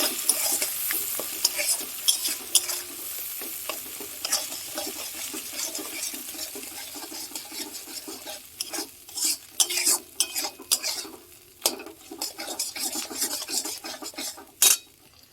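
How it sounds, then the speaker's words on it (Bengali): Spice paste of ground poppy seed, melon seeds, cashew, ginger and green chilli fries in a pan while a utensil stirs and scrapes, giving a soft sizzle broken by irregular clinks and scraping strokes close by. "মগজ দানা বাটা পোস্ত বাটা আদা কাঁচা লঙ্কা বাটা এটাকে ভালো করে মশলাটা কষিয়ে নেবো"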